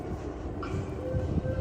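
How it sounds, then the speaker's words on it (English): A Disneyland Railroad train pulls out of the station, its steady low rumble and rolling rail noise continuing throughout with a faint whistle-like tone, close by amid park ambience. "train's leaving right now"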